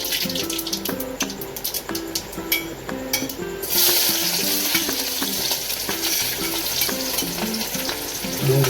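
Chopped onions hit hot oil already crackling with mustard seeds for a pulao, a steady sizzle that swells sharply louder midway and keeps hissing close up, with stirring and no talk.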